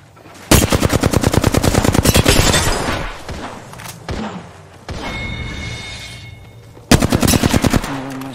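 Rapid automatic gunfire from a battle royale-style video game, loud bursts of repeated shots with a pause and thuds in between, then another burst near the end; no talk.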